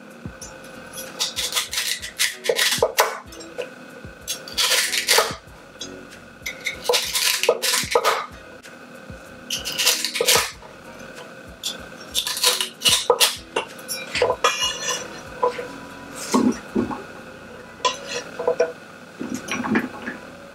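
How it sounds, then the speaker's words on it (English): A knife chops celery on a cutting board for beef curry, sharp rhythmic knocks in quick bursts with short pauses between runs, close and fairly clear. "Cut celery."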